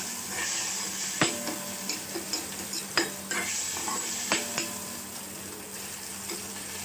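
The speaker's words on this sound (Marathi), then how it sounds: "बघा छान मिक्स करून घ्यायचं आणि मिक्स झालं का हे चांगलं मिक्स झालं" Whole masoor lentil curry is stirred in a pan, with a soft steady sizzle of frying beneath scattered scraping knocks of the spoon against the metal.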